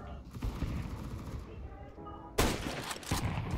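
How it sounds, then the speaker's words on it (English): Rifle fire shooting through a wall in Counter-Strike 2, heard as rapid bursts and a fusillade of shots with a louder volley near the end, mixed with game noise and some talk. "I think I'm shooting too high for the wall bang."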